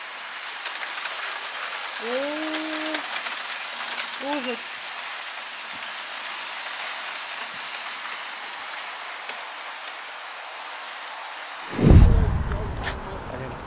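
Rain falling outdoors on an autumn evening gives a steady hiss of drops that runs throughout at moderate volume, with a few brief voices and a loud bump near the end.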